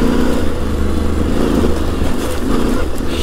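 Yamaha Tenere 700 adventure motorcycle riding on after a jump, a loud, close, continuous engine drone with steady throttle and wind rush throughout.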